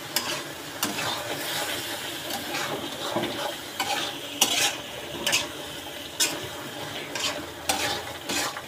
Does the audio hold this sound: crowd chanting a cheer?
no